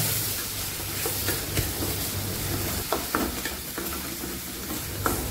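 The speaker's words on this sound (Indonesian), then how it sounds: "ini diaduk-aduk aja, biasa kita kayak tumis bumbu pada umumnya" Ground spice paste sautés in a hot pan while being stirred, a steady broad sizzle punctuated by scraping spatula strokes that clack and scuff at irregular intervals.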